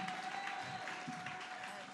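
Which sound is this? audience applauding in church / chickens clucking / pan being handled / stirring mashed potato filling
audience applauding in church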